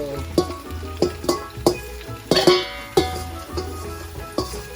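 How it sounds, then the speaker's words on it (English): Pumpkin fries in a pot with onion, garlic and cumin, sizzling steadily while a spoon stirs it, with about ten sharp scraping knocks against the pot at a loose, even pace. "add all your pumpkin, and then you want to fry that up a little bit"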